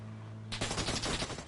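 Automatic gunfire from the battle royale game PUBG bursts in abruptly after a low electronic hum, a loud rapid string of shots that runs to the end.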